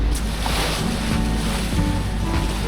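Small boat crossing a lake in Rangamati toward Gangchil Island, a steady rush of water and wind buffeting the microphone, with a low motor hum beneath and no talking.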